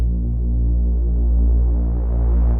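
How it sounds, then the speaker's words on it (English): A Reese bass synth drone with a slowly rising filter cutoff, thick and steady, gradually brightening and opening up over about two and a half seconds, played alone with no talking. "I also added some movement by assigning this rising envelope to cutoff filter"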